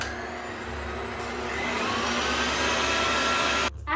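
Electric mixer whisking egg whites for pavlova, a steady loud whirring drone that rises slightly in pitch and stops abruptly near the end, close by with no talk.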